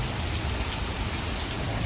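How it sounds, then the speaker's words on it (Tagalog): Heavy rain pours down outside a Canadian Tire store in a dense, steady roar of drops hitting surfaces, loud and unbroken with no voices. "Grabe yung ulan guys, napakalakas."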